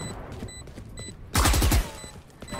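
Video game gunfire: a quick burst of several rapid shots fired in tight succession, loud and close, standing out against quieter background game noise with faint beeps.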